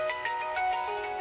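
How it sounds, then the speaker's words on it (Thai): A phone ringtone chimes in a quick repeating melodic pattern of bright tones, fairly clear and alone with no talk over it. "พระอาจารย์ขออนุญาตรับโทรศัพท์หน่อยนะ"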